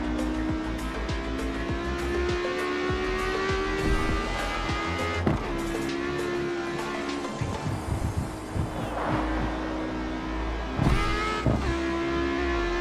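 BMW M5 E60 engine driven in the CarX Street racing game, a steady engine drone holding pitch through the straights, with brief gear-shift dips and tire noise, continuous and fairly loud with no talk.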